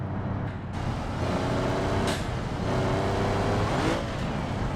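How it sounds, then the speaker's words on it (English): A steady car engine drone in the game BeamNG with rising, whistling turbo spool, swelling and fading a couple of times over a constant motor roar. "I do like the little turbo sound though."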